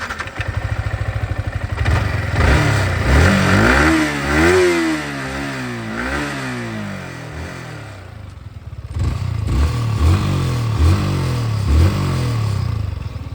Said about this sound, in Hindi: अब एग्जॉस्ट भी देखेंगे, इसका एग्जॉस्ट भी अच्छा ही होता है